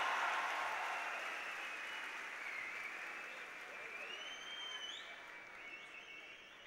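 Faint, distant applause from an audience welcoming a poet at a Jashn-e-Rahat poetry gathering. The clapping holds as a soft, steady wash and slowly thins out.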